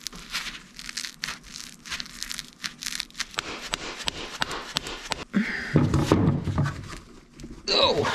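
A crusty, stiff brake caliper slide pin is worked back and forth, giving dry scraping and gritty rasps in irregular strokes with a few thunks, close up and moderately quiet.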